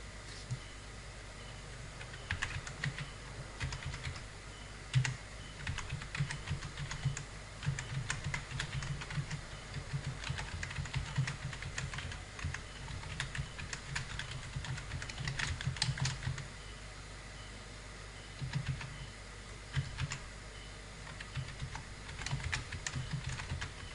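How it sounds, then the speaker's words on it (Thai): Text is typed on a computer keyboard in CorelDRAW, with close, steady clicking keystrokes running continuously in quick irregular bursts, no voices. "พิมพ์ตัวหนังสือชุดหนึ่ง"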